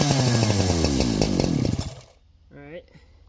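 A Holzfforma G372 XP chainsaw fitted with an OEM Walbro HD12 carburetor fires and roars loudly for about two seconds, then cuts out abruptly, followed by a brief voice.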